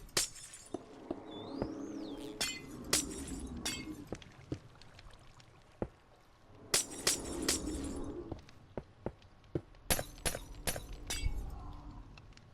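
Glass blocks shattering in Minecraft, a series of sharp crisp breaking crashes in irregular bursts, some clustered in quick runs, with a watery pouring wash beneath and no speech.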